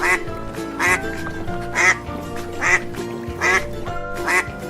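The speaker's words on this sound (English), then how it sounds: "a baby duck is a duckling." Cartoon duck quacking in a steady run of five short, bright quacks over light background music, close and fairly loud.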